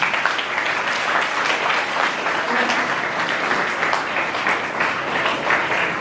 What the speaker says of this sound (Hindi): ग्रेट, एक बार जोरदार ताली आप ले लीजिए।